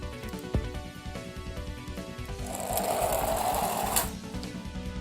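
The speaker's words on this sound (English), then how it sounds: "Oh, did I also mention it's a pullback toy?" A small pullback toy military vehicle has its wound spring motor released, giving a rapid buzzing whir close up that swells in the middle and then fades, with no talk.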